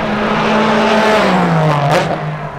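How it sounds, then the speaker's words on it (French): A Porsche race car passes at speed on the Tsukuba circuit, its loud engine note holding steady and then dropping in pitch as it goes by close, with no talking. "Regardez ça, la Porsche."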